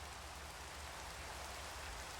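Steady rainfall in the Minecraft video game, an even continuous hiss of falling rain with no talking, uniform in loudness from start to finish.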